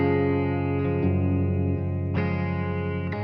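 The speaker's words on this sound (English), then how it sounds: "The electric guitar is just a stereo output from my Helix." Electric guitar in stereo through a Line 6 Helix and a Fender Reverb amp, alone and sustained, with chords ringing into each other, a fresh strum near one second and another at two seconds, under a warm chorus and reverb wash.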